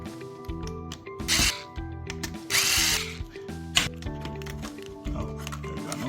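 Power screwdriver backing out small screws from a Dell Inspiron 7415 2-in-1 laptop, several short whirring bursts in a row with tiny clicks and handling sounds between them, close and clear.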